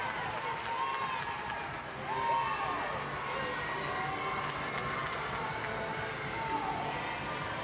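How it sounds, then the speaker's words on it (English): Gymnastics teammates cheer and whoop after a beam routine dismount in a college meet between UNC and NC State, with scattered crowd shouts and chatter in an echoing arena. "Let's look again at the dismount with their teammates cheering her on here."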